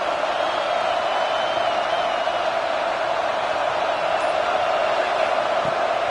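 A college football stadium crowd roars loudly and steadily from start to finish ahead of a big third down, a dense wall of cheering with no pauses or breaks.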